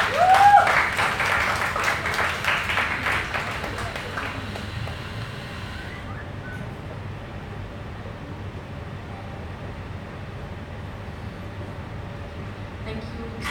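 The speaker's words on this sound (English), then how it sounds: "One big round of applause for Dr. Ann." An audience at an album launch claps in a brief burst of applause that is loudest at the start and fades out within about four seconds, leaving quiet room tone.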